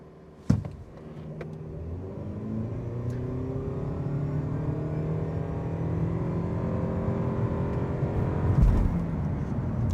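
A 2025 Toyota Prius XSE plug-in hybrid in Sport mode launches from a brake-torqued standstill toward 60 mph on a straight road, its cabin filled with a steady whirring drone whose tones rise smoothly for several seconds after a sharp thump.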